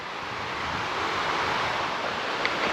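Creek water flows beside a campsite on the Deep Gap Branch Trail, a steady broadband rush with no pauses and no voices.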